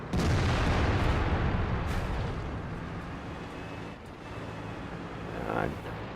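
Heavy tank cannon fire in World of Tanks, a booming blast that rumbles and decays over several seconds, loud and close, with a second swell near the end, with talk over it.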